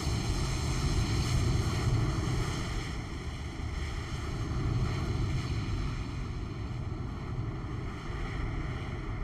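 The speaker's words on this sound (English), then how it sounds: "United Airlines Embraer taxiing out as well" A United Airlines Embraer jet taxis in Microsoft Flight Simulator at Rhode Island Airport, a steady engine hum and whine holding throughout with a broad rushing roar, and no talk over it.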